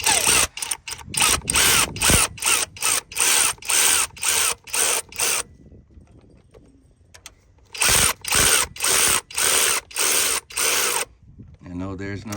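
A power tool fastens bolts on the high-pressure fuel pump of a 2012-or-later Hyundai Sonata. It whirs in a rapid run of short, loud bursts, pauses with faint clinks, then resumes in another burst series.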